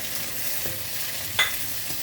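Onion frying in a pan, a steady close sizzle with a couple of light stirring clicks and scrapes.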